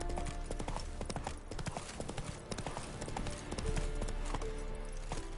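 Horse hooves clip-clop in a brisk trotting rhythm in The Witcher 3 video game, steady and close, with faint game ambience beneath and no talking.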